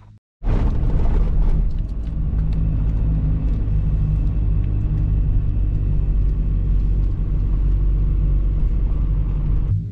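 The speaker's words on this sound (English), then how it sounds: "I got into the van, but there's queues and queues of traffic" A van crawling through queuing traffic produces a loud, continuous low rumble from inside the vehicle, beginning with an abrupt thump and holding steady throughout.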